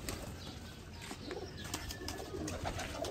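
Pigeons coo softly amid a busy bird chorus, with occasional wing flutters and faint chirps in the background.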